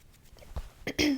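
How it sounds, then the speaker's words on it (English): A short throat clearing up close, a few small rasping noises building to a louder final clearing. "Sorry if I clear my throat quite a bit."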